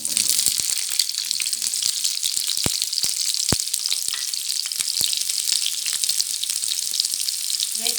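Onions fry with three or four cloves in a pan for an egg gravy. The sizzle hisses continuously, with scattered sharp pops and crackles throughout and no voices.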